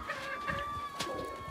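Faint clucking from a young rooster being handled and calmed, a few soft irregular calls at close range over quiet background noise.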